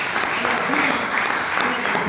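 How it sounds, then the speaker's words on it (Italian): Audience applause for the mayor at the opening of a gourmet food event presentation, dense and steady clapping filling the whole stretch with a few voices mixed in. "facciamo un applauso al sindaco"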